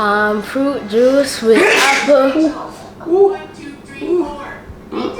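A single sharp sneeze bursts out partway through, between stretches of close-up talking from a child and an adult.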